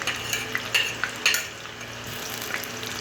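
Chopped garlic hits a hot pan for a Filipino beef steak, crackling with a low sizzle while a utensil clinks and stirs in a few sharp scrapes, close up and with no talking.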